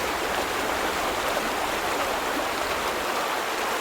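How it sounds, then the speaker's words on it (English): Flowing water in the video game The Vanishing of Ethan Carter: a steady, dense rushing hiss like a stream or small waterfall, even and continuous throughout, moderately loud, with no talking. "The water still looks to be flowing."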